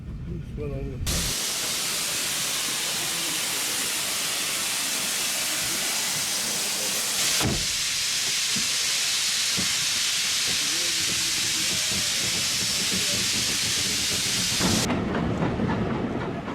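A heritage steam train on the Severn Valley Railway at its winter gala gives off a loud, continuous hiss of escaping steam, broad and steady, broken by a sharp burst midway and faint rail clatter beneath.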